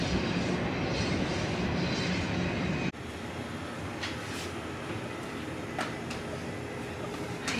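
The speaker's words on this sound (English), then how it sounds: "These trains, they just go on for miles." Continuous rumbling rail noise from a long freight train rolling past, shifting abruptly partway through to a steadier clatter with occasional higher squeals.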